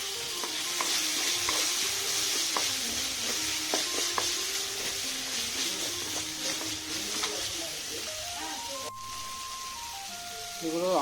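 Onions and tomatoes frying in a pan while being stirred for gobi manchurian, a steady sizzle with scraping spoon knocks throughout, a brief tonal beep near the end.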